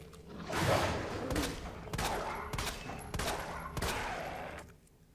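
Gunfire rattles in Resident Evil 2 Remake, a series of sharp shots and short bursts spaced out over a few seconds at moderate loudness, fading near the end.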